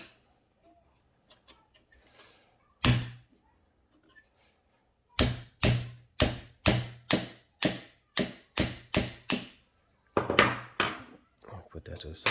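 A small hammer knocks a punch to drive the plate out of a Chiappa Rhino 50DS revolver during a double-action conversion kit install: two isolated sharp taps, then a quick series of about a dozen evenly spaced metallic knocks, close and crisp.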